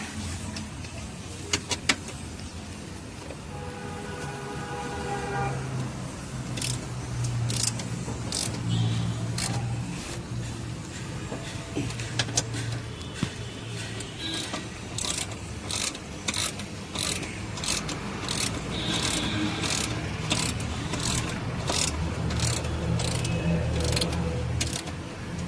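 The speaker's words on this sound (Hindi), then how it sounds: "मैंने इसके तीनों बोल्ट टाइट मार दिया।" A ratchet wrench tightens bolts on a Wagon R chassis in a workshop, a run of quick metallic clicks in repeated bursts over a low background hum, growing more regular toward the end.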